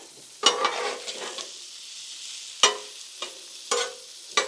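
Onions frying on a hot flat-top griddle while loaded hashbrowns are made, heard as a few sharp scraping, stirring bursts over a faint steady sizzle, close and moderately loud, with no talking.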